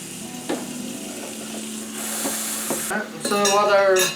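Steak for fajitas sizzling on a grill, a steady close hiss with occasional clinks of a utensil, the frying growing louder and crackling brighter toward the end, with no one talking.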